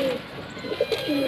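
An old breeding-pair pigeon's low, throaty coos roll out in short repeated phrases, close and clear against a faint steady hum.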